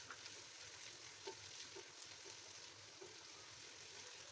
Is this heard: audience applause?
no